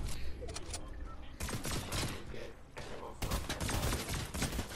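Rapid bursts of gunfire in Fortnite, dense crackling shots clustered in three volleys with brief lulls between them, loud and close with in-game clatter around them.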